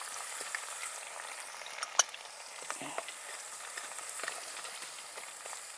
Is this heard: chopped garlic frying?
yes